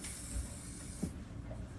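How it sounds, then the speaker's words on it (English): A faint, breathy spray hisses for about a second, then stops, leaving quiet background noise. "I'm gonna spray it again."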